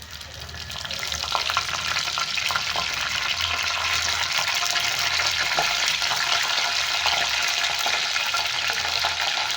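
Curry leaves sizzle and crackle in hot oil in a pan, giving off a continuous, fairly loud frying hiss with small pops that holds steady for the whole stretch.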